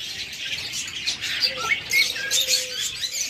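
Pet budgerigars or lovebirds in a shop give rapid, overlapping chirps and squawks, close and lively, with repeated short calls throughout.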